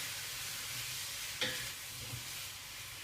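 Chopped tomato dropped into a hot frying pan with spicy potatoes lands with a brief hiss, over a steady background sizzle that continues quietly afterward.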